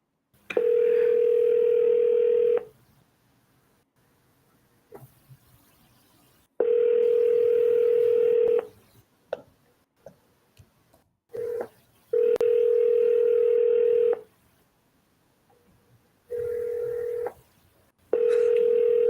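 A steady telephone dialing tone sounds in several long bursts with short gaps between, loud and close, with a few brief clicks in the pauses.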